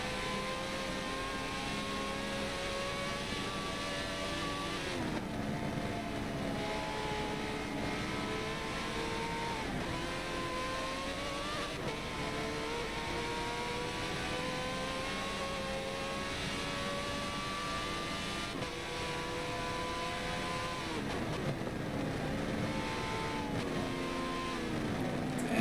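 A Ferrari race car in a sim racing Le Mans endurance event holds a loud, steady engine drone throughout, its pitch rising and dipping through gear changes and over kerbs, with no voices.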